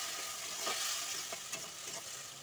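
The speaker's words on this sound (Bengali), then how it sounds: "এখন অল্প করে একটু জল দিয়ে দিচ্ছি।" Tomatoes frying for an egg tarka sizzle steadily after a little water goes into the pan, a quiet, even hiss with a few faint scrape-like ticks.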